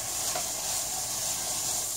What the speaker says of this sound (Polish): Smażymy wszystko około 3 minut,